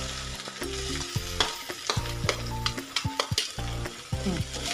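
Onion frying in oil with ginger, garlic, chana dal and urad dal for chitranna, a close, crackling sizzle broken by rhythmic scraping strokes of a spatula against the pan.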